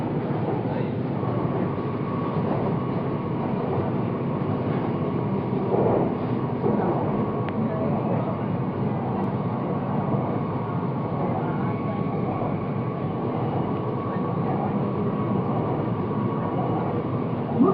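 A Kochi Metro train powered by green energy runs along its line in Kerala, India, giving a steady, close, unbroken rumble and whir that stays even from start to finish.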